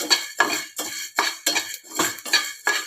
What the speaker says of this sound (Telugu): ధనియాలు కొంచెం కొంచెంగా వేయించుకోవాలి